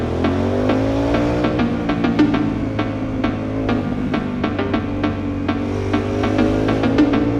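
A 2008 Aprilia Shiver 750 V-twin motorcycle engine rumbles steadily while riding, with a deep throbbing tone and revs that rise and settle, close and continuous throughout.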